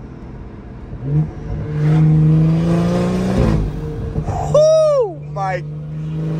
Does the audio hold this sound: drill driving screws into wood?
no